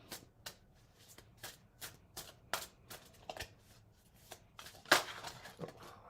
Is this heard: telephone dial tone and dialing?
no